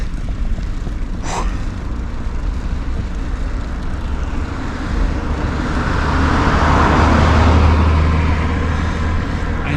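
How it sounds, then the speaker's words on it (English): A car approaches and passes on a mountain road climbing toward 2340 m, its engine and tyre noise swelling over steady wind and road rumble, loudest near the end, with no talk. "Another car comes."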